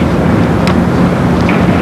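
Steady wind rushing and buffeting a microphone outdoors, a constant low roar throughout with no voices.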